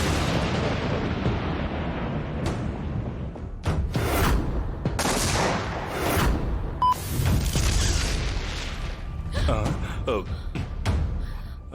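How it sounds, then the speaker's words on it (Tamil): Booming thunder with lightning-like cracks in a Tamil TV drama scene, loud sharp bursts repeating over a dense rumbling bed, with voices and dramatic sound around it. "தமன்னா, இடி மின்னல்ல கேமரா வெடிச்சிடுச்சுன்னு நினைக்கிறேன்"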